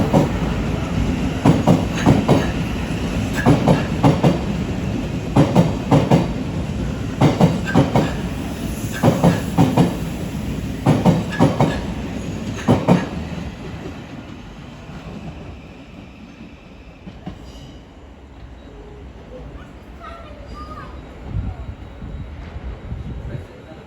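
A Thameslink Class 700 train, 700 058, pulls out of a London terminus with rhythmic clattering over rail joints that fades into the distance, with station announcements and voices in the background.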